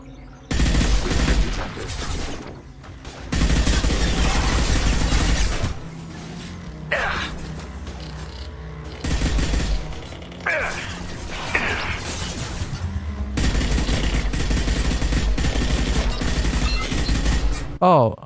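Gunfire from the video game Mass Effect 2 on PS3, loud sustained bursts of rapid shots in several long volleys with short gaps, mixed with mechanical clatter and brief voice sounds.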